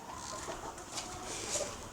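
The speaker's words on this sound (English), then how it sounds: "It's kind of like a screech. You hear that? That's a chicken." A chicken makes screechy clucking calls over a steady background, with one brief sharper squawk near the end; no talking.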